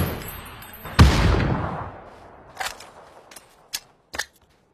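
A loud close burst of gunfire from a first-person shooter game fades into a decaying echo, followed by three more isolated sharp shots, each ringing briefly before silence.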